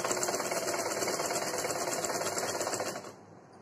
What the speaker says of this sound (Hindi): मुझे ना कुछ सूटों की सिलाई करनी है